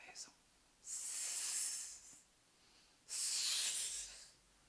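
A storyteller's voice imitates a snake with two long, breathy hisses, each lasting over a second, separated by a short quiet gap, close and fairly soft.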